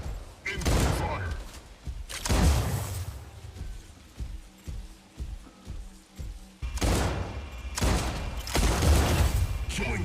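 Mech weapons firing in the video game Mech Arena, including a long-arm combo loadout: heavy bursts of booming gunfire come in loud waves with thudding impacts between them, under game announcer voice lines.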